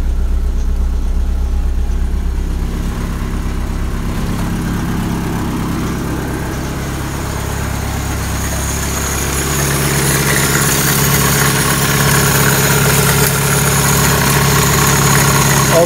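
A cold 1985 Toyota pickup with a 22R engine idles steadily just after starting, a continuous low rumble with a slight loose-belt whine that stays even and loud throughout.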